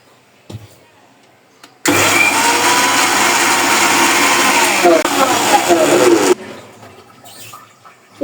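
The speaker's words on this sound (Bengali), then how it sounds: "এখন এটাকে আমি ব্লেন্ডারে ব্লেন্ড করে নিব" A kitchen blender whirs loudly and steadily for about four and a half seconds, grinding washed padra leaves, then cuts off abruptly to quiet.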